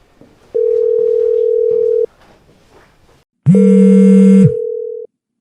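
A telephone dial tone sounds while a call is placed: one clean steady tone lasts about a second and a half, then after a short pause a louder, richer tone plays for about a second and a half and stops.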